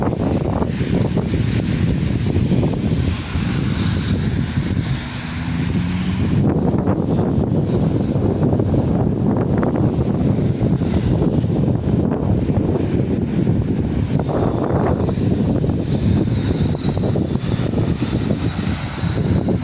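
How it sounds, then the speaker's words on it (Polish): Heavy wind buffets the microphone in a steady, loud roar of low rumble and gusty noise, lasting throughout with no talking. "Wiatr wieje naprzeciwka mnie."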